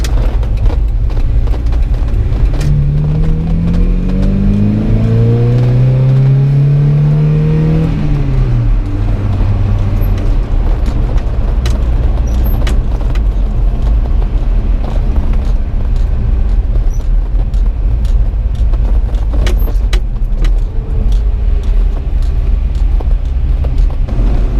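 Engine of a 1986 Toyota pickup truck while driving on the road, a loud steady low drone with rising whine that climbs then drops sharply near the eight-second mark, continuing as a constant rumble afterward.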